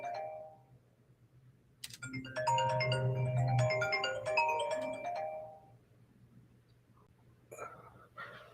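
A mobile phone rings with a bright run of chiming tones lasting a few seconds, close and clear over a quiet room with a low hum, with brief soft vocal sounds around it.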